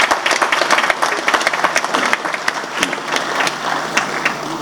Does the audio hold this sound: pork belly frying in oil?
no